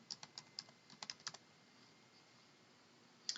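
Typing on a computer keyboard, a quick run of light key clicks in the first second and a half, then a pause and a final sharper keystroke near the end.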